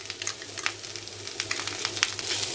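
Finely chopped green chillies and ginger sauté in a pan for veg Manchurian, giving a steady close sizzle with small crackles and pops throughout, no talking.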